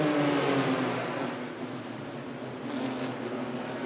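Stock cars at Myrtle Beach Speedway roar back to speed on a green-flag restart during the 1992 Carolina Pride Budweiser 250, a loud, dense engine drone that swells, eases and builds again across the field.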